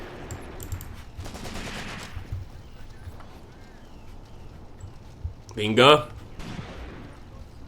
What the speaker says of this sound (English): That's the gun opening fire right in front of this guy. This sniper is still shooting.